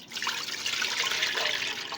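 Cow's milk pours in a steady, soft liquid stream into a clean cooking pan for rice custard, an even gurgling flow lasting about two seconds.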